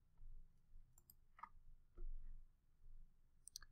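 A faint, isolated computer mouse click at close range, a few scattered soft ticks in a quiet room with no talk.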